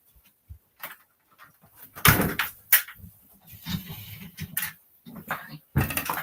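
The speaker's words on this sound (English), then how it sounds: "I'm just going to shut the door." A door pushed shut in a craft room, a loud short thud partway through, among other soft knocks and handling noises.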